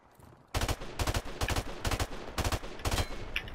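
Rapid automatic gunfire in Call of Duty Modern Warfare Remastered, a steady run of loud close shots for about three seconds after a brief quiet start, with no voices.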